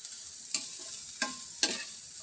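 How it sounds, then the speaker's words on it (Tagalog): Carrots and cabbage sautéing in a pan, a soft steady sizzle broken by three sharp stirring scrapes. "Gisa-gisa lang ng ganyan."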